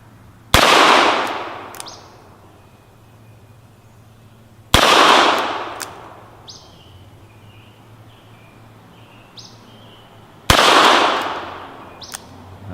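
.22 gunshots striking steel target discs: three sharp, loud cracks spaced about four to six seconds apart, each followed by a ringing metallic tail that fades, with quiet outdoor background between shots.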